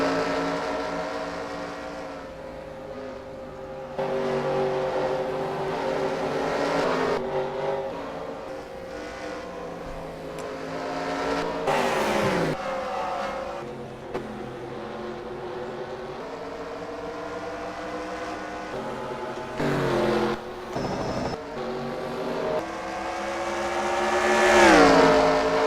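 Stock cars race around an oval in the NASCAR Racing 2003 video game, a continuous engine roar that swells and fades as cars pass, with occasional sharper drive-bys and no voices.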